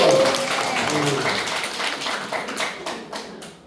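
Audience applause at a church evangelism and joint-care seminar, a dense patter of many hands that starts loud and gradually thins and fades over a few seconds, with a brief tone at the very start.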